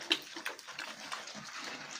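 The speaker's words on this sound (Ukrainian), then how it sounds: "Хай вечерюють наші поросятка та ростуть." Piglets eat their evening feed, giving soft, irregular snuffling and chomping noises at close range that stay fairly quiet throughout.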